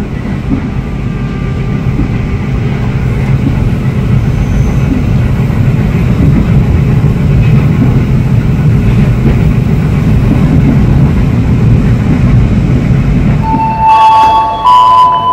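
Inside the KA Pandalungan passenger train pulled by locomotive 203 between Jember and Jakarta, a loud, steady low rumble of the carriage rolling on the rails, ending with a few brighter tones near the close.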